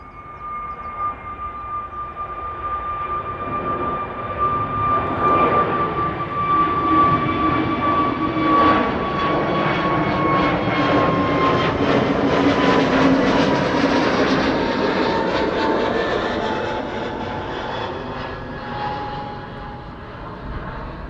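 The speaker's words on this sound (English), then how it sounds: "this is BA going to London Heathrow" A British Airways airliner departs Amsterdam Schiphol bound for London Heathrow, its jet engines building into a steady, loud roar with a high whine that swells mid-run, then slowly eases as it climbs away.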